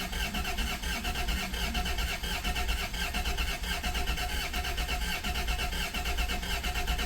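A 1991 Dodge Caravan engine, unrun for over 19 years, cranks over steadily on the starter with a continuous, even churning whir, close and fairly loud throughout without any voices.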